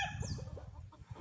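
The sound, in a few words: rooster clucking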